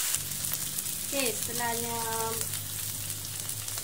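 Ingredients sautéing in a pan for a pumpkin and tripe dish cooked in coconut milk with bird's eye chilies, a steady close sizzle running under brief talk.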